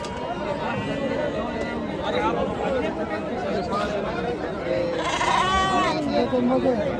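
Sheep bleat amid a crowded goat and sheep market, a few wavering calls rising out of constant chatter and crowd noise, the clearest near the end.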